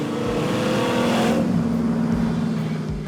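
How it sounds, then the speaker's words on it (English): A supercharged muscle car engine roars steadily with a high supercharger whine riding on top, loud and close, the pitch shifting slightly as it runs. "The whine of the motor, hearing that supercharger whine"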